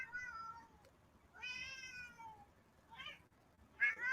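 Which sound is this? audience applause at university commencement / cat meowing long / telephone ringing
cat meowing long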